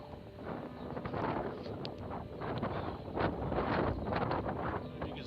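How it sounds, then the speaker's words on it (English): Strong coastal wind on a beach at Denmark's westernmost point buffets the microphone in a continuous rumbling roar, rising and falling in gusts, with no voices. "Very windy here."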